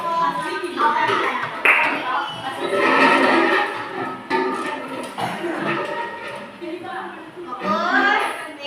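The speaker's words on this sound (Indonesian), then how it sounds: "Oke, kasih tepuk tangan." A classroom of students claps for a group during a teacher's practical exam, with rhythmic hand claps layered under children's voices and chatter throughout, fairly close and lively.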